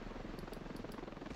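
A helicopter in the video game Ravenfield drones with a steady, continuous rotor and engine rumble, heard alone with no talk.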